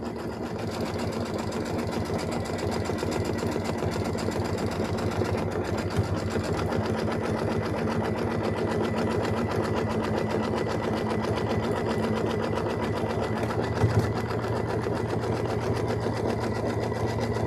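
A sewing machine runs steadily while stitching a quilt block for Lori Holt's Home Town quilt Flag House block, a continuous close mechanical hum with rapid needle clatter and a brief bump near the end, no talking.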